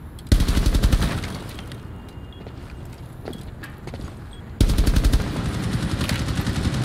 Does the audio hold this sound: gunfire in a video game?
yes